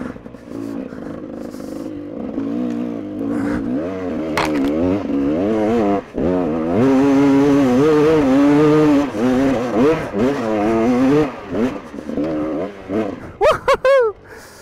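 A freshly repaired GasGas dirt bike engine revs and climbs in pitch as it accelerates, loud and close, with whining rises and falls and a brief rattle near the end.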